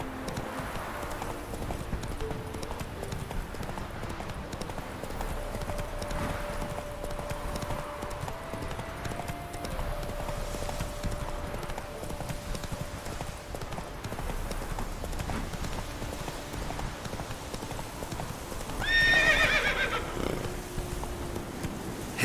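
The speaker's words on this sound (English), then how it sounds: "Whoa there, Roach" Horse in The Witcher 3 video game clip-clopping steadily at a gallop for the whole stretch, then giving a loud neigh close by near the end, over continuous in-game ambience.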